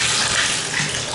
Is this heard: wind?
no